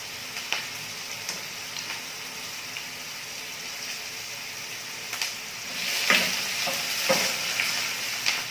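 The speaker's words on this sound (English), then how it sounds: "After putting in my onions, I'm going to reduce the heat so that the onions can cook slowly at a medium heat." Onions fry gently in a pan over medium heat for shepherd's pie, with a soft continuous sizzle broken by a few stirring scrapes and louder clicks near the end, up close with no talking.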